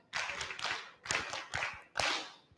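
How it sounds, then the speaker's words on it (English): Participants at a 2023 Uganda Joint External Evaluation meeting clap together for the group in four short, distinct bursts of fairly quiet, close-sounding group clapping separated by brief pauses. "Okay, let's clap for the group."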